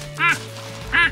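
Two short nasal honking calls from geese near Shallow Bay Hut on New Zealand's Kepler Track, well separated, over a low steady background hum.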